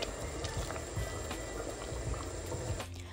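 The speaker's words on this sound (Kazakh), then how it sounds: "2 стакан суды құйып, оттың астын ақырындатып 20 минут бұқтырамыз." A sauce of butter and water simmers gently on low heat, bubbling and popping steadily and close up for the whole stretch, with no voices over it.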